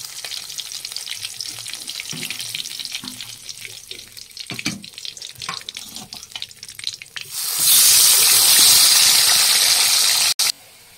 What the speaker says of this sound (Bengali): তেলটা গরম, তেলের মধ্যে আমি কালো জিরাটা দিয়ে দিলাম, আর দেবো তেজপাতা